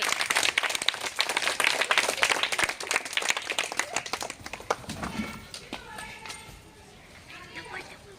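Clapping by a group of children in a primary classroom, meant to sound like falling rain: fast, dense patter of many hands that gradually fades, with voices underneath.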